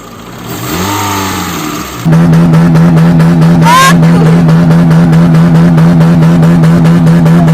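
A Citroën Saxo car engine idles with a steady drone, then revs up and holds a loud, continuous high-revving note, with a brief rising whine partway through.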